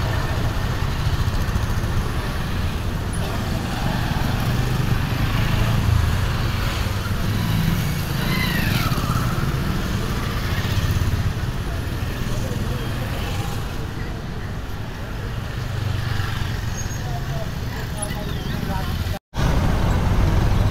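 Motor traffic rumbles steadily through a busy Kathmandu market street at New Road and Asan, with engines idling and passing close by and voices chattering throughout.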